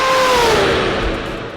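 A voice imitates a car, a sustained hum that glides downward like a passing engine, fairly loud and close, with no other talk.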